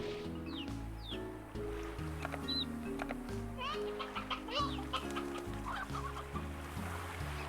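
An in-game 'ancient' hen clucks in short repeated bursts at moderate volume, set against steady looping background music in a farming game with lemon crops, with possible faint voices underneath.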